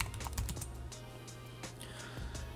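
Rapid keystrokes on a computer keyboard, clicking in a quick irregular burst for a couple of seconds, close and fairly quiet, with no talking.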